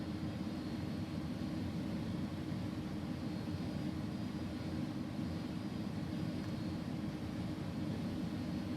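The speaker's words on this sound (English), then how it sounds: "I love the sounds in this plane." Steady, even engine roar of an Airbus A300 airliner in a flight simulator game, a continuous low rumble with broadband hiss holding unchanged throughout, no talk over it.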